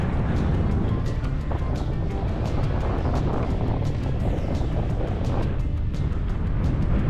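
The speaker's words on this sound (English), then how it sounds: "Oh my God, the wind." Wind blows hard outdoors, buffeting the microphone with a steady, loud, broadband roar and low rumble that continues unbroken for the whole stretch.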